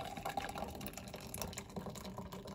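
A cocktail with pineapple juice is poured from a shaker into a glass at a home bar, a faint, uneven liquid splash and trickle with light clinks.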